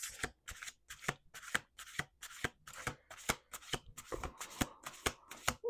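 Cards riffle and snap in quick repeated bursts, a dozen or so crisp shuffles close up with brief pauses between them.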